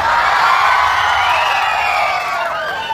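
A loud comedy-show audience shouting and cheering continuously, mostly young men, whoops and yells blending into a dense roar that eases slightly toward the end.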